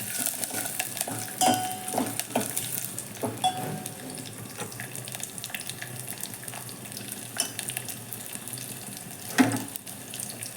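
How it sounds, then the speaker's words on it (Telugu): Tempering spices fry in oil for tomato dal, giving a continuous crackling sizzle broken by occasional scrapes and clacks of a stirring spoon, with one louder knock near the end. "పోపు అంతా ఇలా వేసుకొని ఫ్రై చేసుకొని"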